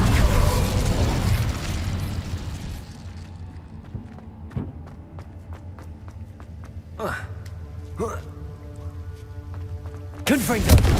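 An Incendio fire spell cast in Hogwarts Legacy, a burst of roaring fire that fades into quieter game sounds and scattered pops, with another fiery blast near the end.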